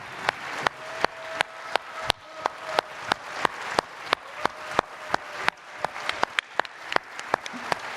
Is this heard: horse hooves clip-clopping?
no